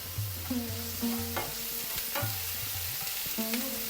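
Curry leaves dropped into hot oil with garlic and ginger for a ridge gourd and mango curry, soft sizzling under repeated spoon scrapes and stirring taps in the pan.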